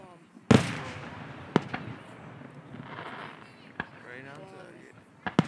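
Fireworks burst at a distance, a sharp loud boom followed by several scattered thinner cracks and pops over a hissing, rumbling background, with voices murmuring underneath.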